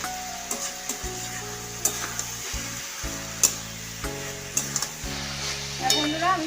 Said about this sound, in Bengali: আরো একটু ভালো করে কষিয়ে নেব আমি।